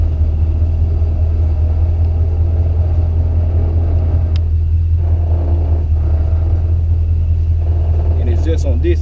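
A car with a crate 350 engine and 4.10 rear gears on 26-inch wheels idles and rolls backward out of a driveway, a constant deep rumble close inside the cabin, with someone talking over it.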